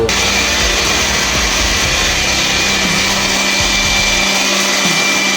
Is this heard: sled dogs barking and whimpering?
no